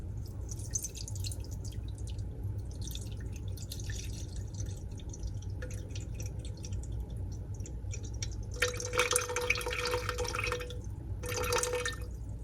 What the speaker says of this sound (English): I'm going to add 365 milliliters of lukewarm room temperature water.